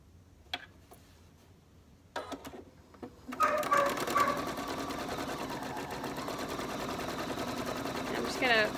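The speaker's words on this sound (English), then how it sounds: "Then we'll come back over to the machine and sew on our 3rd row." After a few quiet clicks and handling sounds, a sewing machine starts up and stitches quilt rows continuously, close and steady, until the end.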